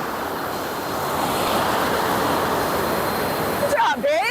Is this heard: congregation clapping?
no